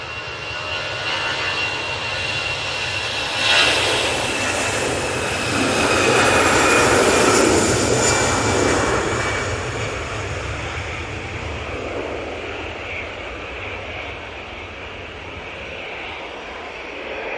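Airbus A320 jet departing Manchester Airport bound for Bordeaux, a broad continuous engine roar swelling mid-way and holding steady at moderate distance, with no voices present.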